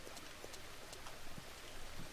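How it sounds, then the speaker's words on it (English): Rain falls in the farming video game Farmer's Dynasty, a quiet, even patter of drops with soft scattered taps on surfaces throughout. "I don't think I can harvest in the rain"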